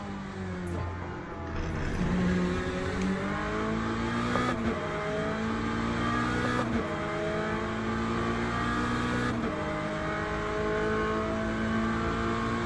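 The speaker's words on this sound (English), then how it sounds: "This V8 sounds like it's got a loose exhaust gasket." A V8 race car engine in a sim racing game revs up and down in repeated sweeping pulls, with a rough edge like a loose exhaust gasket, loud and close throughout.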